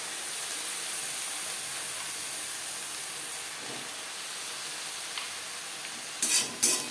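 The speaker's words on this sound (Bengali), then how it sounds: "3-4 মিনিট বেগুন ভেজে নেওয়ার পর দিয়ে দেবো কুচি করে কেটে রাখা সর্ষে শাক" Eggplant frying in a pan with chopped mustard greens added, giving a steady broadband sizzle and hiss throughout, with a couple of louder stirring scrapes near the end and no talking.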